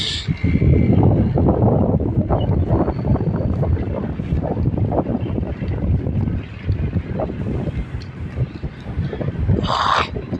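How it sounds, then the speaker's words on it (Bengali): Strong wind in open, treeless desert country in Saudi Arabia roars against the microphone as a loud, continuous low rumble with gusty swells throughout, without talk. "প্রচণ্ড বাতাস"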